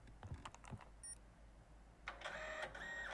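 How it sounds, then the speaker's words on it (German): Printer in the horror game Infliction whirring and clattering through a mechanical feed cycle, a short burst of clicks and grinding that stops as it runs out of paper, sounding alone and close. "Kein Papier. Typisch Drucker,"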